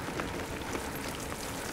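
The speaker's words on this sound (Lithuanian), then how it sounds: "Šiandien su lietučiu startas." Light rain falls near a volcano route under an overcast sky, a faint, steady hiss of drops pattering on surfaces with no talk and no distinct individual sounds standing out.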